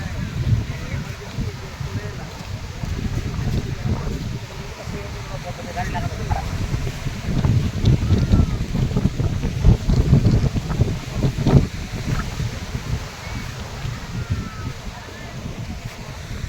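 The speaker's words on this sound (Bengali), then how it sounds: "মানে সমুদ্র আকাশ বাতাস হাওয়া সব গর্জন দিচ্ছে যে আমরা এসেছি সমুদ্রে" Steady roaring wind with a deep rumble of surf beneath it on the beach at Digha, loud and continuous, swelling slightly in the middle, with faint voices mixed in.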